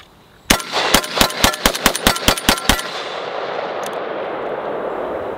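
Rifle firing green tip rounds from a Galil magazine into a homemade armor plate, ten sharp, loud cracks in a fast, steady string, each with a ringing impact, then a fading outdoor tail.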